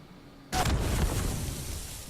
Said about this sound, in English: I thought I'd test out my new shotgun